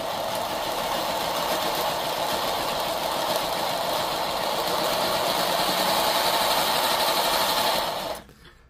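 A single electric motor running at speed in a 474 wheeling car, a steady loud high-pitched whine with a buzzing rattle that holds for about eight seconds and then cuts off.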